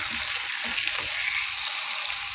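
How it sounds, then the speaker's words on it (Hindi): Tomatoes fry in a pan with green chilli and cumin for a potato-and-egg curry, giving a steady, close sizzling hiss with faint low knocks underneath. "इसको हम 5 मिनट अच्छे से भूनेंगे कि टमाटर हमारे नरम हो जाए"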